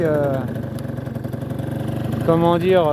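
Peugeot Ludix 50cc scooter engine running close by: a steady buzzing two-stroke drone that rises in pitch toward the end as the throttle opens.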